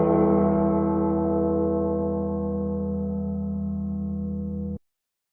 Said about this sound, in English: Gong selected.